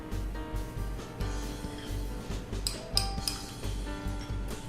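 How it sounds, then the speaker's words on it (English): A spoon scoops raspberry jelly from a jar onto peanut butter snack bars, producing repeated light clinks and scrapes of metal against glass at close range with no talking. "We're going to spoon the jelly onto the peanut butter"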